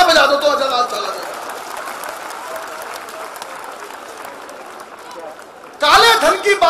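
Audience at a Hindi comedy poetry show applauds in a steady, dense wash for about five seconds, bracketed by someone speaking before and after.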